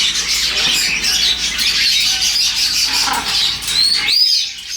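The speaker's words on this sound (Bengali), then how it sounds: "তো আরেকটা দেখতেছেন, এটা কত সুন্দর পাখি" Caged birds at a bird market in Makkah give loud, overlapping squawks and chirps with a few sharp whistled calls, a constant busy chorus close by.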